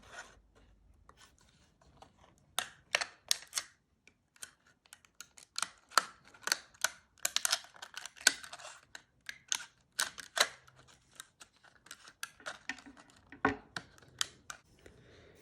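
Small scissors snip through a plastic bottle in a series of sharp, close cuts, irregular clicks and crunches spaced over quiet gaps, some clustered in quick bursts.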